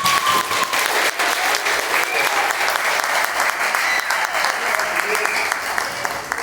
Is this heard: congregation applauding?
yes